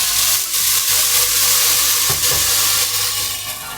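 Garlic and ginger paste sizzles steadily in hot oil in a pot, a dense, loud frying hiss with light stirring clatter and a couple of brief utensil knocks.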